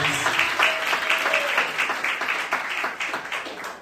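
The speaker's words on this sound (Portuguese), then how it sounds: "Quem pode aplaudir a Deus mais uma vez?" A church congregation claps loudly and continuously, a dense wash of applause that gradually eases off toward the end.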